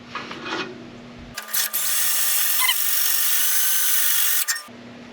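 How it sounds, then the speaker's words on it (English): A drill bit bores through a plate clamped in place on a Firebird front coilover control arm mount, giving a loud, steady high-pitched grinding whine for about three seconds between quieter moments. "run my bit through"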